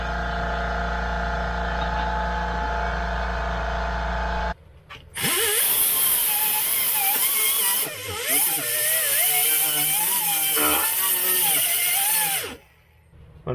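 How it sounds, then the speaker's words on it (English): In a garage doing Jeep frame rust repair, an air compressor hums with a steady low drone for a few seconds. A loud, high, whining air tool then cuts in, runs with varying pitch and stops abruptly. "Air compressor."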